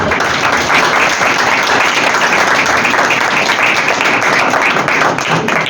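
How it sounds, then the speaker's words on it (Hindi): Congregation applauding during a Hindi-Urdu church sermon, a full, sustained round of clapping from many hands that stays loud and even throughout without any speech. "अपने लिए जोरदार तालियां"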